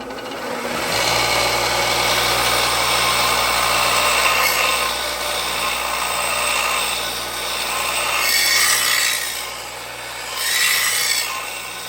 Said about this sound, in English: now I'm just gonna go ahead and sand right through the seams that I welded on the edge